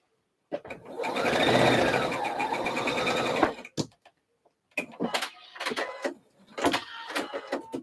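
A sewing machine stitches a slip dress in one continuous run of about three seconds, then stops, followed by scattered clicks and handling noises from adjusting the machine.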